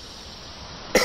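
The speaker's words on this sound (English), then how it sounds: "I'm sorry, I had a cough." A single short cough bursts out at the very end, after a stretch of quiet background hiss.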